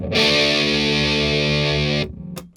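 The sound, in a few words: distorted electric guitar power chord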